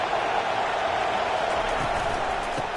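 Loud, steady crowd roar from a packed football stadium backing the Auburn defense, a continuous dense wash of cheering voices with no breaks.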